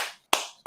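Two sharp hand claps about a third of a second apart, close and crisp, each ringing out briefly with no talk.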